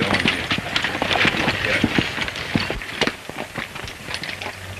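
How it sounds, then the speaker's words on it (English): Horses move off at a quick trot in an old Western film. Rhythmic hoofbeats run under shouted voices and background commotion. "Get on them horses. Get up on them and let's get going here."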